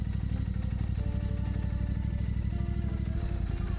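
Motorcycles at a rally in Plungė, heard as a continuous, fairly loud mix of idling and running engines with a rough, pulsing drone throughout and faint clatter, with no clear talk.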